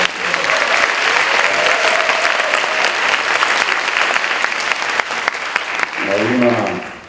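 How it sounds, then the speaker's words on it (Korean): A congregation at a Sun Moon University worship service bursts into full, steady applause for four university presidents. The clapping is loud and continuous for about six seconds before fading as a voice comes in. "우리 승리하신 총장님 네 분께도 박수 한번 올려드려야 할 것"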